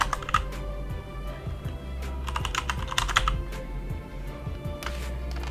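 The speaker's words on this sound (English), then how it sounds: "Let's go ahead and click in the second one and type in view demonstrations." Typing on a computer keyboard, with quick bursts of key clicks and short pauses between them, close and clear over a low steady hum, no voices.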